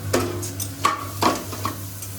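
A snack of boiled chickpeas being stirred and fried in a pan, giving a soft sizzle under a few distinct scraping strokes of a utensil against the pan, close and with no talking.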